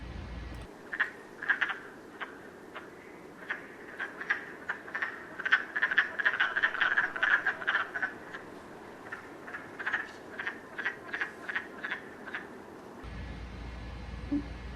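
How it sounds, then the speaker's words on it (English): A chorus of frogs calling from a vernal pond in New York State in rapid, chuckling, duck-like bursts, many voices overlapping, steady and close, then falling away near the end. "Their call sounds like chuckling or kind of like ducks quacking"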